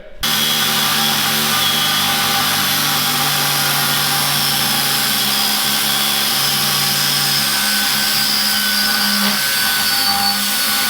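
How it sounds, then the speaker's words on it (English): An angle grinder cuts through steel by hand while converting an ex-army truck into a fire truck, a loud, steady whine running unbroken from start to finish with a faint hum beneath and no talking. "I'm going to give it a go, cutting this by hand with the angle grinder"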